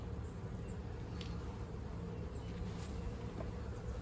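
Honeybees buzz steadily at a hive in an Australian apiary, a dense, continuous drone of many wings close by, with no voices.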